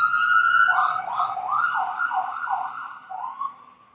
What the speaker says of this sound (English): the utterly intrusive, incredibly loud sirens